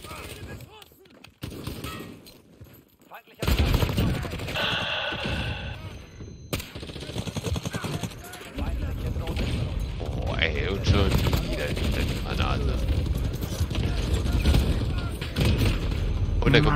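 Rapid bursts of gunfire with booms from a Call of Duty Modern Warfare multiplayer match, loud and dense through most of the stretch, mixed with game effects and heard under people talking.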